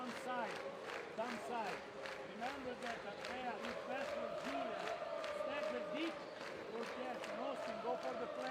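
PAOK basketball fans in an arena during a Basketball Champions League game against Umana Reyer Venezia, chanting rhythmically in unison with steady clapping beats, the dense crowd noise continuous throughout and loud.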